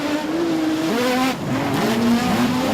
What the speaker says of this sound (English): Green lights come on, they're away and racing.